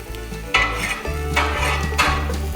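Denver omelette ingredients fry on a Blackstone griddle, with a steady sizzle under repeated metallic scraping and stirring of a spatula, close and fairly loud, with no talking.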